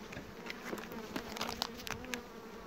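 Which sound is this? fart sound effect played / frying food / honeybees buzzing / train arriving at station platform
honeybees buzzing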